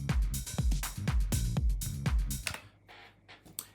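A nu-disco groove plays with basic drums, a punchy kick and snare pattern under a bass line, rhythmic and upfront, then thins to a sparse tail near the end.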